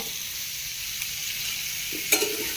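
Vegetables sautéed and stirred in a home kitchen pan give a steady, close sizzle, with a couple of brief scrapes or knocks of the spoon near the end, and no talking.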